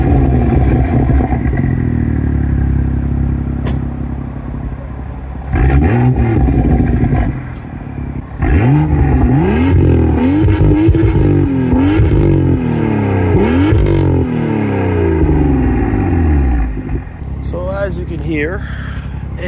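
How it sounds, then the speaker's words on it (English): Car engine fitted with a Wagner downpipe, starting up and given a few sharp revs; a loud, steady idle rumble runs throughout, broken by throttle blips that rise and fall, with a short pause near the middle. "I'm gonna start up the car, give it a few blips"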